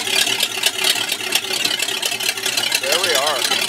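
A Mini car engine running with no exhaust fitted, a loud raw rumble at a steady idle, close by, with a voice briefly speaking over it.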